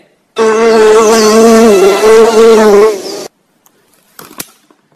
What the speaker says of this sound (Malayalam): നാട്ടിലെ കൊതുക്.